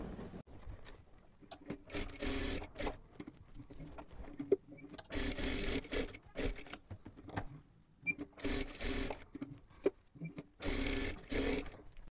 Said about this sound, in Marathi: इथे बघू शकता हे मी पूर्णच अशाच पद्धतीने शिलाई करून घेतलं.